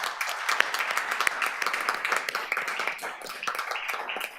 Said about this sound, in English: So let's give him a round of applause too.